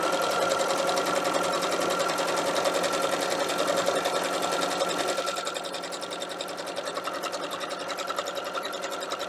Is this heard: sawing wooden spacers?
no